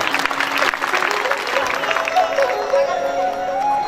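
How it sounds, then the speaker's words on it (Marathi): A crowd applauding at a Shiv Puran religious discourse, dense clapping that rolls on steadily for several seconds with a voice heard over it. "तुमच्याकरता सुद्धा तुम्ही टाळ्या वाजवल्या पाहिजे"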